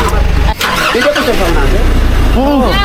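A car engine cranks and catches amid loud chatter from several people, its low rumble steady beneath the voices through most of the moment.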